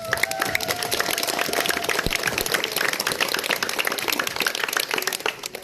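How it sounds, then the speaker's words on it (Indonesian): A crowd at a school flag ceremony claps together in sustained, dense applause, loud and continuous from start to finish. "Tepuk tangan dulu untuk kita semua"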